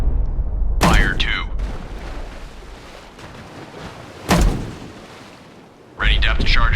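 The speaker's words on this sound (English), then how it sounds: "Ready depth charges. Shallow pattern." Depth charges launched from a destroyer in the naval video game Destroyer: The U-Boat Hunter, three heavy booming bursts spaced a few seconds apart, each followed by a rumbling wash of ship and sea noise.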